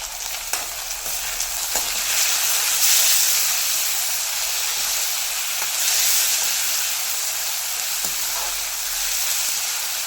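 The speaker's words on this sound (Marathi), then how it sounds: "टोमॅटो ही आपल्याला पाच ते सहा मिनटं असंच परतवायचं आहे" Tomatoes sizzle with potatoes in a pan for aloo bhaji, a loud steady frying hiss broken by occasional scraping knocks of a spoon stirring.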